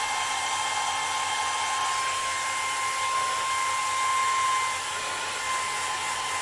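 A hair dryer runs steadily to dry a lacquer finish on rippled sycamore wood, producing a continuous close whooshing hum with a thin whine that dips slightly near the end, with no voices.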